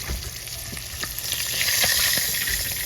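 Dried milkfish, daing na bangus, frying in a pan, a loud crackling sizzle with scattered pops and spits, close and continuous, building slightly in intensity.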